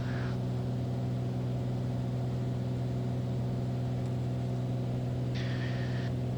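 Inside a small propeller aircraft's cockpit during climb-out, the engine drones at a steady, loud, unchanging pitch, with no talking.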